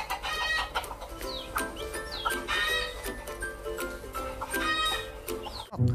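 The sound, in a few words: rooster crowing in the video game Jurassic World Evolution 2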